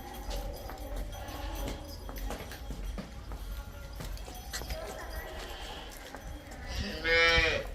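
A cow lets out one loud, drawn-out moo near the end, over a busy outdoor background of shuffling and clatter at a cattle sale.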